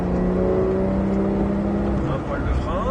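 A Porsche 911 GT3 of the 991 generation accelerates on Circuit Ladoux, its engine note climbing steadily and loud up close before easing slightly, with an instructor's voice speaking over it.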